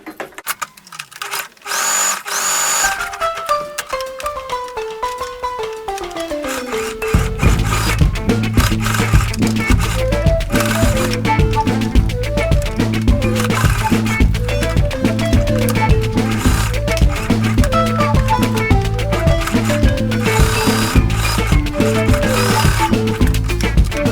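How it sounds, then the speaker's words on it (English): A sewing machine stitches a pleated fabric face mask with a 1/4-inch seam, first a slowing whir, then a loud, rapid, steady mechanical chatter that runs on without pause. "give it a 1/4 of an inch stitch all the way around down to this point again"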